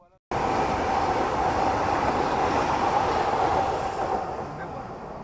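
The Ahmedabad–Mumbai Karnavati Express rushing past: a sudden loud, steady roar of wheels and rushing air that holds strong, then slowly fades as the train pulls ahead.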